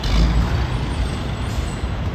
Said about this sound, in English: Loud truck there.